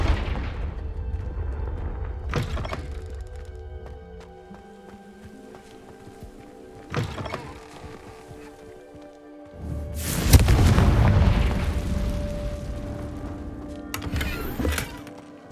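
A Confringo blasting spell from Hogwarts Legacy detonates with a loud, broad boom that swells and rumbles for several seconds, with smaller thuds and game ambience before and after it.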